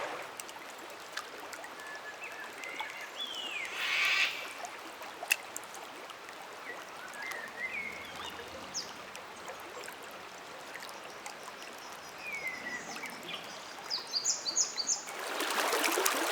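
A trout creek flows in a steady, moderate wash of running water throughout, with scattered bird calls above it and a brief louder splash near the end.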